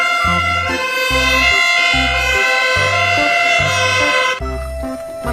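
A fire truck siren wails continuously and loudly, while a low, rhythmic pulsing horn-like tone repeats underneath in steady beats.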